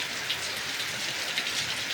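Steady rain pouring down outdoors, a continuous hiss of drops hitting surfaces, even and fairly loud with no voices.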